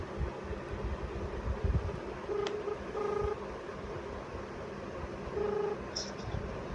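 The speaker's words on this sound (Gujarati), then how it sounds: "ચાલો કરી દઈએ યસલાને ફોન કરી." A phone dials out a call, giving a few short, separate keypad tones spread over several seconds against a low background hum and faint voices.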